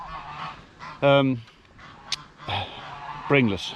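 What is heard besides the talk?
geese honking on a farm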